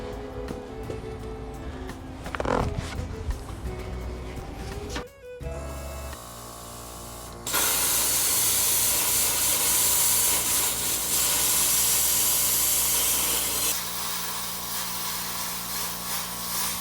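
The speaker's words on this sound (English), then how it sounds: "The little plasma cutter has an internal compressor, so we don't have to hook it up to the airline." A small plasma cutter with a built-in compressor cuts metal on a 1953 Peterbilt truck, first a clanking mix, then a loud steady hissing roar of cutting lasting several seconds, close by with no talking.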